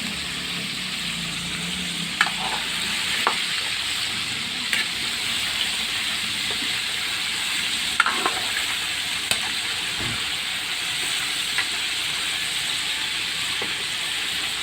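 Fried chicken pieces crackling in hot oil at a street-food stall, a steady close sizzle and hiss running throughout with scattered sharp pops and spatters.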